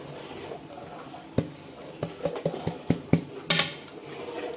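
A spoon scraping and clinking in a pan while fried semolina and coconut are mixed together, giving a series of light metallic taps and scrapes at an uneven rhythm against a quiet background.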